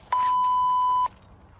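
A phone gives one steady electronic beep lasting about a second, clear and alone against a quiet background.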